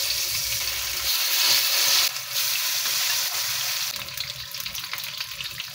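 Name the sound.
chicken frying in hot oil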